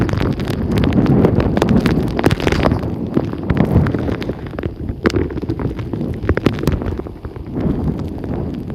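Strong gusts from Hurricane Nicole roar steadily against the microphone in St. Augustine, Florida, among flooded streets and old buildings. The wind noise is loud and buffeting, with no talk heard.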